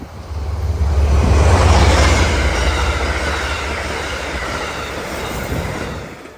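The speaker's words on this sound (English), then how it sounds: "A train's coming, so we're gonna get interrupted. Here comes the train." A train rolls past nearby outdoors, a loud steady roar of wheels on rail with deep low rumble and faint clickety-clack that builds quickly, holds for several seconds and eases slightly toward the end, with no talking.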